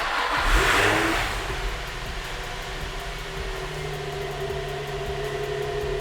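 An Infiniti G35 engine fires up after a chassis swap and holds a steady idle with a faint fan-like whir, loud and close, with no talk over it.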